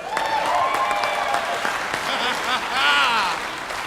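Audience applause mixed with whoops and cheering at a comedy show, a dense, steady wash of clapping that swells near the end, with no clear speech on top.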